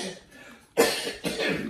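A person coughs twice in quick succession, close and fairly loud, with a short pause between the two bursts in an otherwise quiet room.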